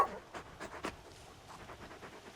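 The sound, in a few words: dog Torgal panting in video game Final Fantasy XVI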